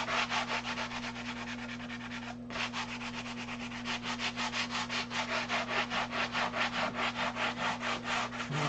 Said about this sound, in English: I could just take a sanding board and go over it like this.